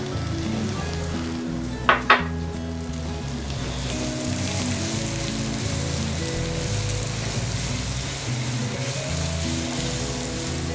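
Onions frying in oil in a pan for a chicken breast dish, a steady close sizzle and crackle throughout with a brief clink near the start, alongside background music and no speech.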